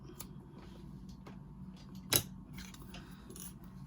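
Scissors trim the yarn ends on a crocheted Santa Christmas ornament, giving one sharp, close snip midway through an otherwise quiet stretch.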